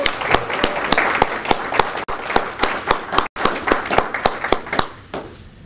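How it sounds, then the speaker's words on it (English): Audience claps for Army veterans at a Veterans Day ceremony, with sharp, distinct hand claps in a fairly regular rhythm, close and loud, briefly broken twice before thinning out at the end. "let's give them a round of applause"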